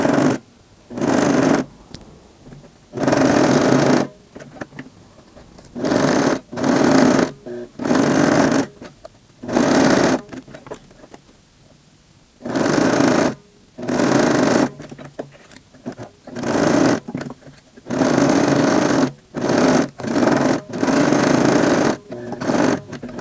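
A sewing machine stitches a fabric face mask in repeated loud bursts separated by short pauses, including short backstitching at the start and end of each seam, heard close up with no talking.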